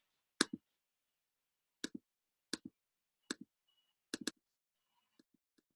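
Calculator buttons tapped while entering values for a quadratic, a short click at a time in sparse pairs and triplets, close and crisp against silence.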